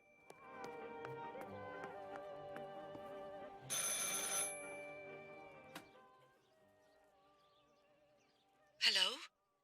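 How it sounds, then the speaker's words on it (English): A telephone rings in the horror game Martha Is Dead, with a steady, tonal ring that repeats under a quiet ambient score, and a brief sharp chirp near the end. "I should pick up the phone but remain silent."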